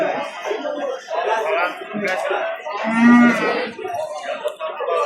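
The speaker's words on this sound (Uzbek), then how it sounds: "Hali buzoq ekan mana" A young calf at a livestock market mooing in one loud, drawn-out, strained call amid the crowd's chatter and laughter, with people talking close by throughout.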